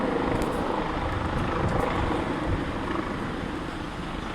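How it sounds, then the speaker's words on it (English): A rescue helicopter arrives at a hospital in New Zealand, its rotor and engine making a loud, steady thrumming roar that fills the whole stretch, slightly fading near the end. "So they bring a helicopter, maybe some from help section."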